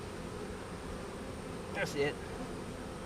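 A small swarm of bees in a hive box, about three frames, gives a low steady drone with a brief closer buzz of a bee passing near; someone speaks briefly over it.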